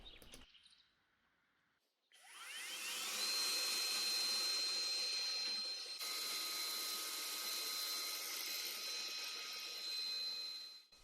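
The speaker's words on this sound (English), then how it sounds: "One of those little wire brushes that you would put in your Dremel tool worked actually surprisingly well for this purpose" Dremel rotary tool fitted with a small wire brush stripping old paint from a weathered wooden buffet; a steady high-pitched whirring grind starts abruptly after a quiet moment and runs loud and continuous, with a brief pitch shift midway.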